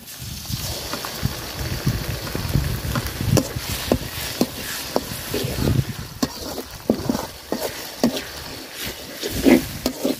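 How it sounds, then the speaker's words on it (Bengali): Ground spice paste fries in hot oil with browned onion for a country duck and papaya curry, giving a steady close sizzle broken by frequent sharp scrapes and clacks of stirring. "মশলাটা আমি সুন্দর করে ভাজা নিছি তেলের সাথে।"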